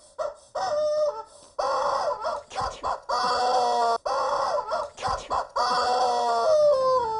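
A squeaky rubber chicken dog toy honks repeatedly in short and drawn-out squeals, loud and close, with brief pauses between squeezes.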